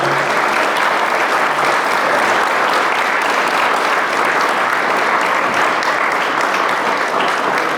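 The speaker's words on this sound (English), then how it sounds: "Round of applause for our panelists." Sustained, dense applause from an audience thanking panelists at a community meeting about a data center, a loud continuous wash of many hands clapping with no talking.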